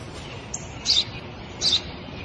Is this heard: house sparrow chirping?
yes